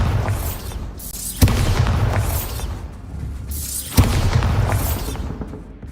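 Two heavy blasts from the Bombarda spell in Hogwarts Legacy land a couple of seconds apart, each a sharp, loud boom with a crackling, rumbling tail that fades before the next hit.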